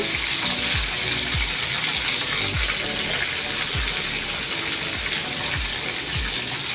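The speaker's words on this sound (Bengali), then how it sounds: "মাছগুলোকে আমি বেশি ভাজি করবো না হালকা ভাজি করবো" Pangas fish pieces frying lightly in hot oil give a loud, steady sizzle and crackle, with low clunks and scrapes of a utensil in the pan every half second or so, and no voices.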